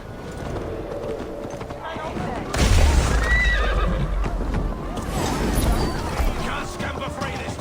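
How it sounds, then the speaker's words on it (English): A horse neighs loudly mid-clip in the Assassin's Creed Valhalla video game, with hoofbeats clip-clopping around it and game voices and action noise throughout. "Stop that horse!"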